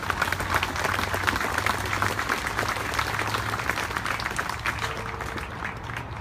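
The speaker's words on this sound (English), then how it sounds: "Please, one more time, with a big round of applause to the Friends of the Korean War Memorial." Outdoor crowd applause at a Memorial Day ceremony, honouring the Friends of the Korean War Memorial: sustained rapid clapping from many hands, steady and fairly loud, with a faint hum underneath.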